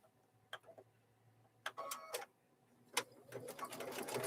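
A sewing machine stitches sideways across the corners of fabric for a microwave bowl koozie, running in short intermittent bursts that build to a longer steady run near the end.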